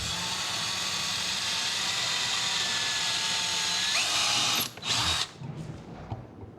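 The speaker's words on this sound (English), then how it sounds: "I'm going to pre-drill this cabinet" A power drill whines at a high steady pitch as it pre-drills a hole in a cherry cabinet, then stops abruptly with a short burst and a clunk as the bit pulls free.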